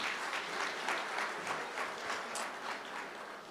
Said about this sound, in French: applaudir chaleureusement ces pionniers de la musique haïtienne qui sont avec nous ce soir.